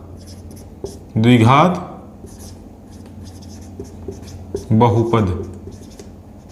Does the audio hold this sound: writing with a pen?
yes